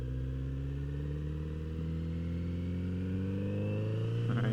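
A Kawasaki Z900 RS motorcycle on a second-gear roll-on while accelerating onto a freeway, its engine droning loud and steady with pitch climbing smoothly through the rev range, heard close from the rider's position.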